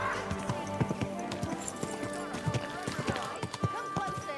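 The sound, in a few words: horse hooves clip-clop in video game Kingdom Come: Deliverance II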